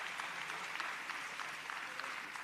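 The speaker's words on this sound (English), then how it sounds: "Gives the elected officials a round of applause, yes." A crowd at a political rally in New Orleans claps steadily throughout, a sustained patter of many hands from a distance, fairly soft and even.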